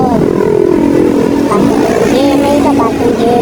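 Dense roadside traffic on the way from Carmona to Cavite in the Philippines, with buses, trucks and tricycles passing. Loud engine drone and revving fill the scene, with a person talking over it close by.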